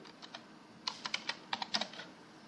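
Keystrokes on a computer keyboard while typing text into a graphic design document, a sparse run of light clicks followed by a quicker burst of taps, close and moderately quiet with no talking.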